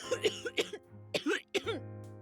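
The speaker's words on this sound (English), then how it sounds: "Becca starts coughing heavily." Several heavy, rough coughs from a woman in a horror visual novel game come in quick bursts, close up, over a steady low hum.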